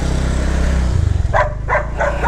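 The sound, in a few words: dog barking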